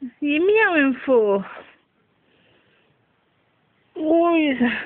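A female cat meows up close, two quick rising-and-falling calls, then a pause with faint shuffling, then another long wavering meow.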